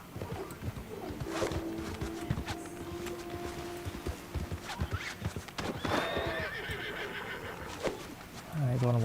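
Horse hooves clip-clopping and a horse neighing in a Wild West video game, quiet and close, with scattered game sounds around them and a person talking.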